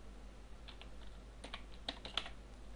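Keys tapped on a computer keyboard while typing a ping command, a short sparse run of light clicks, faint and close, with no talk.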